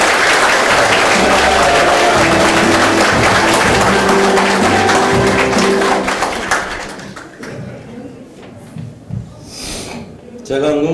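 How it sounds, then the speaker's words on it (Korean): Loud, dense applause from a gathered crowd welcoming a county governor candidate at a campaign office opening, sustained and close for several seconds before thinning into scattered claps and murmuring, with voices mixed in. "힘찬 박수로 받아주시기 바랍니다."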